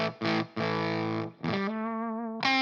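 Electric guitar played through a Tone Bender fuzz pedal, the Sola Sound MKII or the BOSS TB-2W, giving thick, heavily distorted sustained notes and chords with strong low end, a few separate plucked phrases with no talking.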